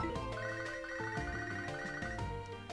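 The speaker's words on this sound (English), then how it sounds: "just for a demonstration, let's call my mother" A Poké Gear phone call rings in the Nintendo DS game Pokémon SoulSilver as a bright, repeating chiptune melody of short beeping notes, clear and continuous for a few seconds.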